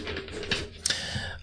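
Tarot cards being shuffled in a quiet room, a soft run of papery riffles and flicks with a couple of sharper snaps, close and fairly faint.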